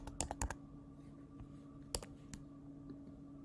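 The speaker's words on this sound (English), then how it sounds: "I'm typing" Keys struck on a computer keyboard while entering spreadsheet cells, a quick cluster of sharp clicks followed by a few sparse taps over a low steady hum, fairly quiet and close.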